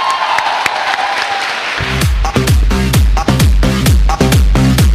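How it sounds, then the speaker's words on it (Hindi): A burst of applause and cheering from a crowd at a company gathering celebrating new members, lasting under two seconds before a loud, steady music beat with heavy bass takes over. "जोरदार तालियां।"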